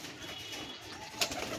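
A Malbai pigeon coos softly against steady background noise, with a slightly louder call near the end and no talking.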